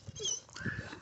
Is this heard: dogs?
yes